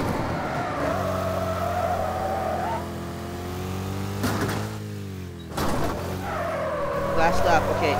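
Race cars in the racing video game Wreckfest hold a steady, loud engine drone, with brief bursts of tire skidding and screeching in the middle and near the end.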